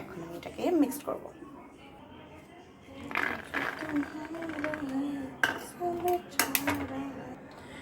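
Spoon mixing chopped cucumber, tomato and onion in a bowl, with intermittent clinks and scrapes against the dish alongside a woman's speech.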